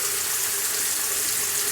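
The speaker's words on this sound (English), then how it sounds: "And now go ahead and turn on your faucet. Let it run for about 20 seconds" Water runs steadily from a sink faucet after a drain has been reassembled, a constant broadband hiss with no pauses or voices.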